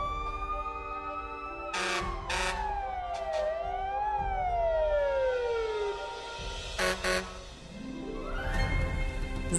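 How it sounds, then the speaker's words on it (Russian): A cartoon ambulance siren wails past, its tone sliding downward as the vehicle speeds by, with brief bursts of other animated sound effects around it. "Михалыч, смотри, как скорая пролетела!"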